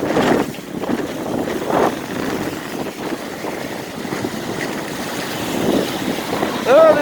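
Strong wind and heavy surf at Inlet Beach, Florida, with steady roaring wind buffeting the microphone and waves crashing repeatedly close by, loud throughout and without speech.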